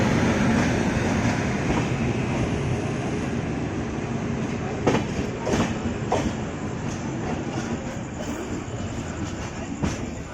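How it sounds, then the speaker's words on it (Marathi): A passenger train, the Mandovi Express on the Konkan Railway, arrives at Panvel Junction, rumbling loudly and steadily, with clattering wheel clicks and brief metallic squeals as it slows. "ट्रेन फायनली आले पनवेल"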